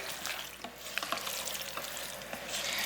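Taco seasoning being stirred into a pot of keto taco soup, giving a steady, close-up wet scraping and swishing with small clacks of the utensil throughout, and no talking.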